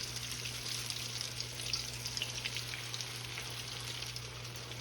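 Fish fingers fry in oil heated to 380 degrees, a dense, continuous bubbling sizzle heard close and even, with a low steady hum beneath and no talking.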